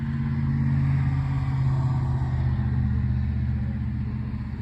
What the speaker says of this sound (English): A car is passing